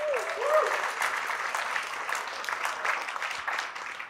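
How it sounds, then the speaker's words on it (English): A comedy club crowd applauds military veterans in the audience, a sustained, even roar of clapping, with a short whistle or cheer at the start. "Hey, give it up for them, guys, give it up for them."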